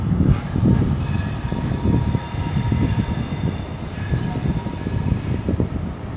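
A train pulls in at Swindon station in Wiltshire, a loud continuous rumble of rolling wheels with high, sustained squealing tones from the rails, close by and without voices.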